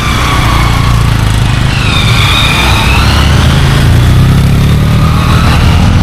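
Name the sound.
motorcycle passing on the road below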